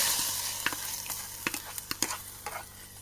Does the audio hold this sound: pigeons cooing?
no